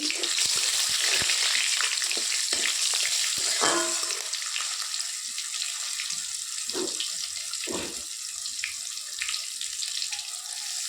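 Tomato dropped into a spiced oil tempering on a clay stove, frying with a steady hissing sizzle throughout, punctuated by scattered clinks and brief louder bursts as it settles.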